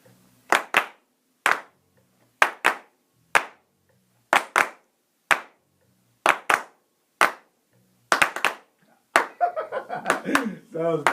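A group of people clap, starting with sharp, separate, evenly spaced claps that fall together in time, then breaking into looser clapping and overlapping voices near the end.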